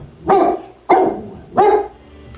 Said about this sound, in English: You've got a great watchdog. He barks every time someone comes to the door